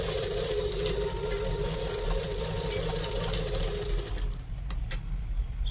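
A Jack T20 industrial sewing machine stitching, a fast steady mechanical whir and rattle that runs continuously for about four seconds, then stops.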